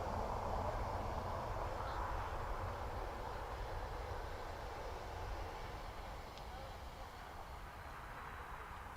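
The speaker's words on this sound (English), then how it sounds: "EI Lim just overhead for Matt." An airliner passes overhead at Dublin Airport, a steady broad jet roar at moderate distance that eases slightly as it goes, with no voices.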